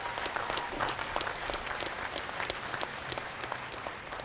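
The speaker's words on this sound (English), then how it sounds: "I would like to request that you all join me to applaud the late Professor Agbola" A large audience at a university convocation ceremony applauds continuously, a dense, steady wash of many hands clapping at moderate distance, without any voices over it.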